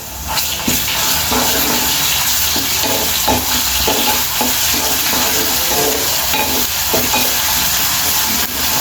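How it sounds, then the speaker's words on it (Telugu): Ginger-garlic paste and green chillies fry in hot oil for an egg gravy, a constant loud sizzle with scraping stirs and clinks throughout, no voices. "కొంచెం పచ్చివాసన అయ్యే వరకు వేయించుకోవాలండి అల్లమెల్లి పేస్టు"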